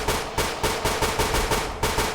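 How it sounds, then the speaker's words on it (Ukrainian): Rapid gunfire from a weapon in a Roblox forest-survival game, about nine loud, evenly spaced shots in a quick rhythmic burst, each with a sharp attack and short decay. "Ну давай постріляємо."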